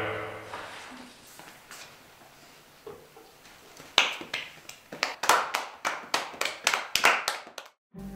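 Applause from an assembled crowd greeting their leader, starting as scattered claps and swelling into loud, sharp rhythmic clapping near the listener, then ending abruptly.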